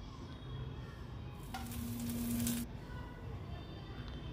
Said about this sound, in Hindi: इसी पैन में हम थोड़ा सा फिर से ऑयल डालेंगे।